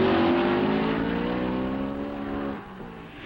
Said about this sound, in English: Into the south turn, the Ferraris of Hawthorne and Collins lead Fangio's Maserati.